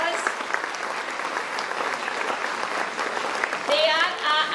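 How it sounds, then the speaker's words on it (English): Audience applause at a school's annual social gathering and prize distribution, a steady burst of clapping filling the hall, with a brief voice rising near the end. "Let's give a big round of applause to our board of directors."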